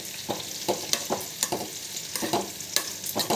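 A spoon stirs fried drumstick pieces and onion tossed with chili powder in a pan, giving repeated scraping strokes over a soft continuous sizzle at close range.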